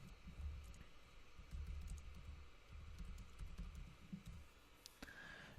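Faint, scattered clicks of typing on a computer keyboard, with keystrokes coming in short irregular bursts over a steady low hum and rumble.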